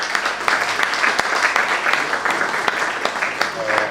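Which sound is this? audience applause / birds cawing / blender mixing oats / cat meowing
audience applause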